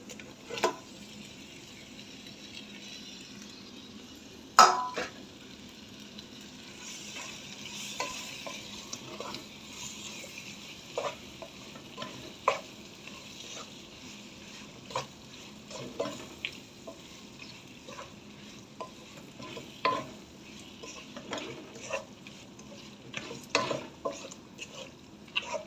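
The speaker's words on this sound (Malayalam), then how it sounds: "ഇനി നമുക്കിതിലേക്ക് നാരങ്ങ ചേർത്ത് വഴറ്റിയെടുക്കാം." Lemons are sautéed in a pan for lemon pickle, a soft continuous sizzle broken by scattered clicks and scrapes of stirring, close but fairly quiet.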